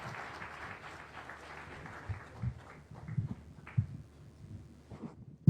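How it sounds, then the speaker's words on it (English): Audience applause following a speech by President Ruto at a Google 15th anniversary event, a sustained patter of clapping that swells and fades with a few louder individual claps near the end. "Why don't we give him another hearty clap for comments well made."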